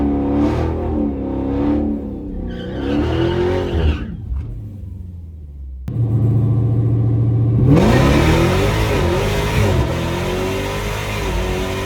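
A loud drag racing car with a Demon 170 engine revs and climbs through gears, cuts out, then roars back with a steady, powerful acceleration that keeps building.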